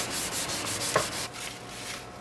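Sandpaper and polishing cream rub along a sword blade in close, quick back-and-forth strokes, a dry rasping swish that eases off toward the end, with no talking.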